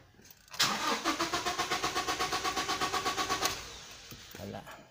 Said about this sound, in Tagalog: Ayan, subukan natin andarin.